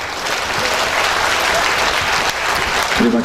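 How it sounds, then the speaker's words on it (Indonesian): An audience at a National Cooperative Day ceremony applauds with dense, loud, sustained clapping that fills the room, while a faint voice comes through near the end. "Hadirin, kita berikan tepuk tangan."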